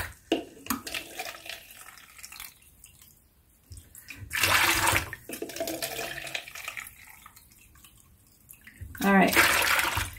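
Banana peel water diluted with clean water being poured onto houseplants, giving splashing, running bursts of liquid that come in separate pours, with a voice speaking in between.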